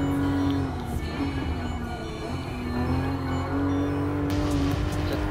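A Toyota GR Supra RZ in Gran Turismo Sport holds a steady, loud engine drone as it accelerates through the gears, with a sustained tone and faint tire noise, and no talk over it.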